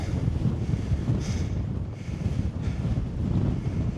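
Strong wind roars and buffets continuously near a hilltop in the Brecon Beacons, Wales, with loud blustery rumble across the whole stretch and no talking.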